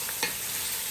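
Chicken pieces with garlic and ginger fry in a pan, a broad hiss of sizzling with one brief scrape as the pieces are turned, no voices.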